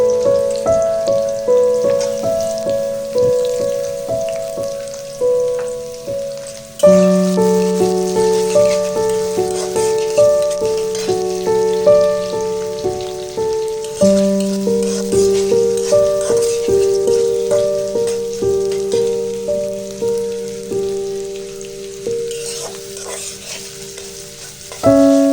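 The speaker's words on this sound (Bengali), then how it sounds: "সুন্দর করে ভালো করে ভেজে নেব।" Chopped onion and garlic frying in hot oil, a loud steady crackle with frequent stirring clatter, heard under background music.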